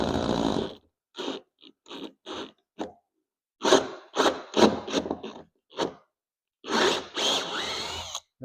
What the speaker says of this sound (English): I just take a oversized drill bit and I just chase it back in there